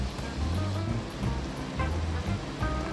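Steady rushing, splashing water poured into a pot of cooking rice and lentils pours continuously with a broad, full wash of sound, close and fairly loud, with no talking.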